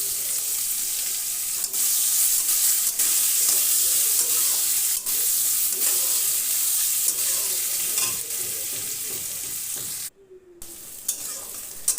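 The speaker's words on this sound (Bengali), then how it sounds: "একটা বড় পেঁয়াজ কুচিয়ে রেখেছি, দিয়ে দিলাম। দিয়ে ভালো করে নেড়ে চেড়ে নিলাম।" Chopped onion sizzles steadily in a hot pan with crab-and-ol-stem curry cooking underway, a spoon stirring through it in scraping strokes, broad hiss continuous and close, briefly cutting out near the end.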